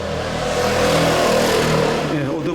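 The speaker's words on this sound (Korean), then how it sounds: "오토바이 소리" A motorcycle passing a parking lot outside a building: a loud engine drone swells and fades as it goes by, close and continuous with no talking.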